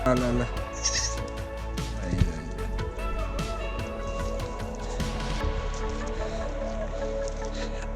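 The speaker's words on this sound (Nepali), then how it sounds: "खसी र खसिनी" Goats, a castrated male and a female, bleat nearby on a hilltop trail at Chhimkeshwari in Tanahun, Nepal, a short cry early on over steady outdoor rustling, with people talking.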